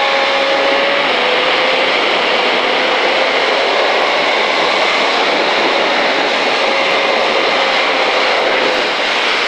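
A 2005 KTM Superduke motorcycle accelerates hard out of a corner on the Pau circuit, its engine a loud, steady roar that holds without a break from start to finish.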